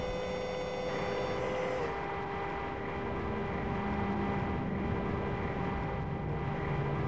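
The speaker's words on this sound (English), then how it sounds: "it's the jet engine. No, it's our jet engine." A jet engine in the Arma military video game drones continuously with a steady turbine whine and tonal hum over broadband roar, sustained and fairly loud without speech.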